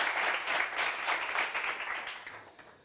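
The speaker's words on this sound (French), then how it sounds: "Applaudissements pour lui, s'il vous plaît." Studio audience applause on a French television talk show, a steady wash of many people clapping that gradually fades toward the end.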